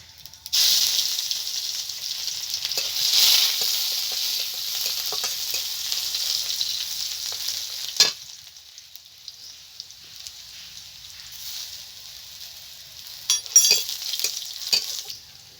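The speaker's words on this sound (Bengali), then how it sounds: "আমি ফোড়নে দিচ্ছি রাঁধুনি, আর দিয়ে দিচ্ছি রসুন" Radhuni seeds and garlic hit hot oil and sizzle loudly in a steady bright hiss, fading somewhat over time, with occasional spoon stirs and clacks against the pan near the end.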